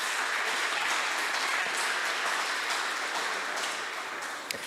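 Church congregation applauding in praise during a worship service, a steady dense wash of clapping that carries through the whole stretch and eases slightly at the end.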